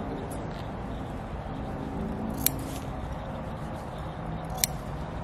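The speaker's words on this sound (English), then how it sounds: "I'm gonna have to cut some relief snips." Scissors make two brief, crisp relief snips into slipcover fabric for a wing chair, separated by a couple of seconds of steady background hiss.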